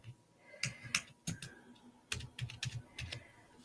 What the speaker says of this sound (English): Oops. Wrong keyboard, Jenny.